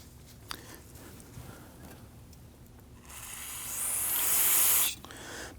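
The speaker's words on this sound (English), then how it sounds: "we're going to spray a rag and then wipe it down." A short, close hiss of solvent sprayed from a can onto a rag during valve cover work on a 2009-2017 Volvo XC60 3.2L inline-six, rising for about two seconds and stopping abruptly, after a quiet stretch with light handling noises.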